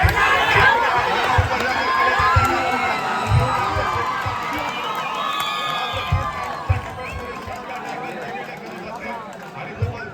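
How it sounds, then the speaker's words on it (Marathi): A kabaddi final match crowd in Maharashtra, a Gajanan Sangharsh Kashi team playing Shree Simamata, cheers and shouts steadily throughout, loud, dense and continuous, with thumps and sharp bursts of noise rising from the crowd. "हा जल्लोष हैदराबादमध्ये देखील पाहिलेला नव्हता."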